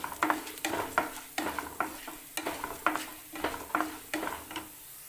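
Toor dal dry-roasting in a hot pan while a spoon stirs it, giving about a dozen steady, rhythmic scraping strokes with a light crackle underneath, close and moderately loud with no talking.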